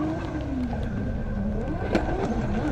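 Engine of a Nissan drift car on a Pure Drift run, a steady loud roar sustained throughout with a brief sharper burst near the end.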